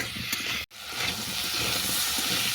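Chopped papaya frying with salt and turmeric in a pan gives a steady, close sizzling hiss with stirring noises, cut by a momentary dropout early on.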